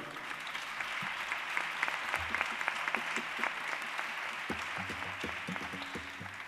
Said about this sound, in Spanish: A la gente de las luces también, un fuerte aplauso.